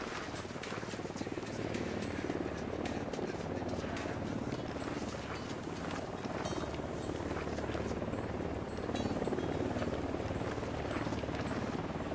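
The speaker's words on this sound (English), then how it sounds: "chopper incoming." A helicopter drones steadily with a rapid rotor chop, loud and continuous throughout as it approaches, with voices speaking over it at times.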